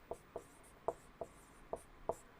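Chalk or marker tapping and stroking on a board during a physics lecture, a steady series of short, light ticks at a quick even rhythm, faint and close.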